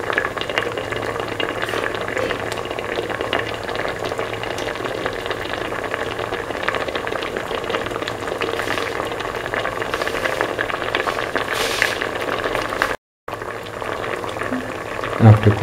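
A stew of mint, eggs, potato and coconut milk simmers in a pan with a steady, bubbling hiss that continues throughout, close and even, broken by one brief silent gap near the end.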